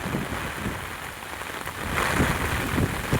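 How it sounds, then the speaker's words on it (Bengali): Heavy storm rain pours on the Pabna highway amid fallen trees and traffic jams, a dense continuous wash of rain with gusting wind that swells louder toward the end. "এখানে প্রচুর বৃষ্টি হচ্ছে"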